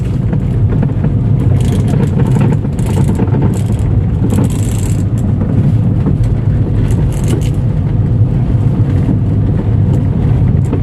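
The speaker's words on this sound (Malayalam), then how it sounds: "സ്റ്റിയറിംഗ് റാക്കിൻ്റെ സൗണ്ടാണ്." A Skoda Rapid with a worn steering rack bush and play in the steering drives onto a rough road. Loud, steady road and wind rumble fills the cabin, with faint intermittent knocks and rattles on top.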